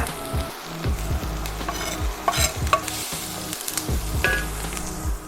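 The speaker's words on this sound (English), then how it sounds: "We've got our onions and carrots sweated off nicely. Add my garlic to that." Garlic sizzling and frying in a pan with softened onions and carrots for a lasagne ragu, a steady close crackle broken by repeated scraping stirs, with no talk.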